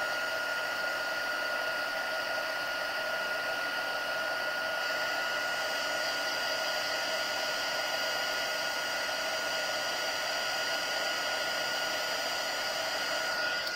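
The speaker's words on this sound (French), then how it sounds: "Donc avec mon pistolet, je vais aller chauffer." A heat gun blows steadily to melt embossing powder on dark paper, a constant close whooshing hum with a high whine that stays even from start to finish.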